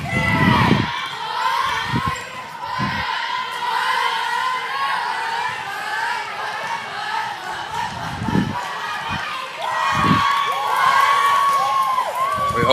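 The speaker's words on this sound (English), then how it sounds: "Imanuel Lutheran's crowd getting into it again." A middle school crowd at a 7th-grade state finals match cheers and shouts steadily, a broad roar of young voices with occasional louder yells and thumps rising over it.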